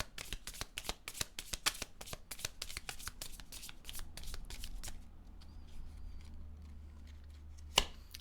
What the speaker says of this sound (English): Let's pull you an affirmation card.